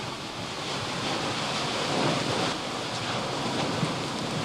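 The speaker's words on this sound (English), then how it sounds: "Huge chunks are calving into the ocean and exploding at the water's edge." Chunks of a lava bench on Kilauea calve into the ocean and explode at the water's edge, a continuous loud roar of surf and rumbling blasts with no voices.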